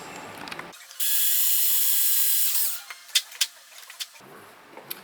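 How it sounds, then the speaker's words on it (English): A power drill bores holes into the hull of a Disney Nautilus scale model. It gives one loud, steady, high-pitched whine of about two seconds, then a run of small clicks and taps. "we're going to drill two holes all the way down"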